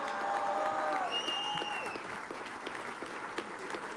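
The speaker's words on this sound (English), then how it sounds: "It's a happy crowd" Steady applause from a crowd at a political gathering, a dense wash of clapping that stays fairly loud throughout, with faint whistling tones rising above it.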